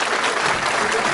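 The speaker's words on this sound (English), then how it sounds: "Let's give Dion a round of applause" A round of applause fills the moment, loud continuous clapping from a group of people, close and dense with no gaps.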